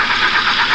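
A 2011 Kia Forte engine running rough, sputtering with an uneven, pulsing idle, close and steady across the short stretch with no talk.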